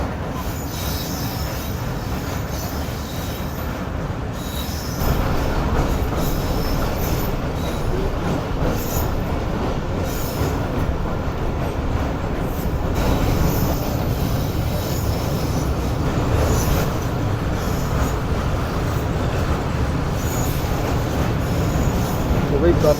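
The Karakoram Express, running with a damaged coach, crosses the Empress Bridge on a curve: a continuous loud rumble of wheels and rail with high squealing, close and steady throughout, growing slightly louder partway through.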